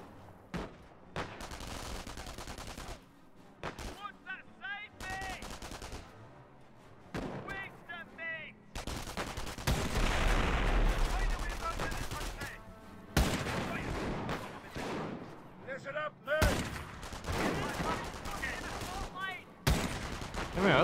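Heavy wartime gunfire in the Company of Heroes video game as troops fire on a sniper: repeated bursts of rifle and machine-gun fire with booming blasts, loud and close, coming in uneven clusters separated by short gaps.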